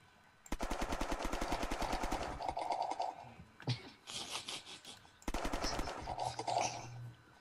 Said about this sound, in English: Come on, stop running. I'm trying to shoot you